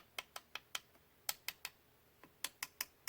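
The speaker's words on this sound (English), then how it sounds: "Do you hear that kind of knocking noise?" Cuticle pusher tapping on a cured poly gel nail extension, a series of sharp, dry little knocks in uneven clusters, close and quiet, with no voice over them.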